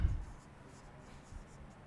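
Writing on a board during a linear algebra lecture, with a few soft taps and strokes at the start followed by faint, scattered scratching in a quiet room.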